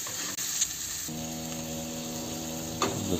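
Pork chops sizzle steadily in a pan as butter and oil are added for basting, a constant close frying hiss with a brief steady tonal hum running through the middle.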